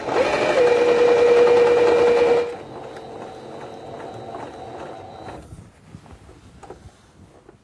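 Sewing machine stitching a trouser zipper fly, running loud and steady with a high whine for about two seconds, then softer slower stitching and faint clicks that taper off into quiet handling.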